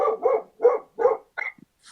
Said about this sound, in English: I'll try to talk over the dog barking.